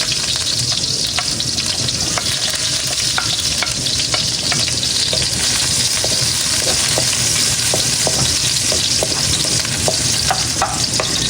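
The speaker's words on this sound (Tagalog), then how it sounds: "Magigisa na po ako na itong ating mga ricado" Vegetables and aromatics sauté in a hot pan for a fish stew of lapu-lapu, giving a loud, constant sizzle broken by frequent scraping and clinking stirs from a utensil. No one talks.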